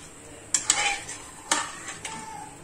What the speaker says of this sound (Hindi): इसको मैं मिक्स कर रही हूँ।